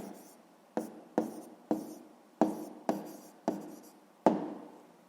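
Pen scratching on paper while working a math exercise, with seven or eight short strokes starting sharply and trailing off, close and quiet, with no talk.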